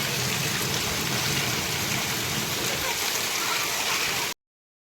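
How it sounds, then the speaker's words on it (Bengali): Heavy afternoon rain pours down steadily, a dense, continuous hiss and patter of water close by that holds at an even, loud level until it cuts off abruptly near the end. "দেখছো গাইস খুব জোরালো বৃষ্টি হচ্ছে দুপুরে।"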